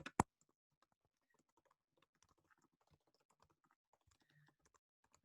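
Fast typing on a computer keyboard: one sharp tap at the start, then a quick, steady patter of light, quiet key clicks.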